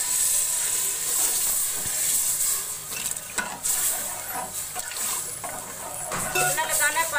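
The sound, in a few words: water poured into sizzling dal in pot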